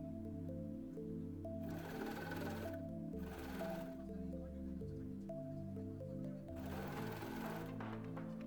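A sewing machine stitches the hem of a medical shower apron, using a magnetic seam guide, running in steady bursts with short pauses between them and no talking.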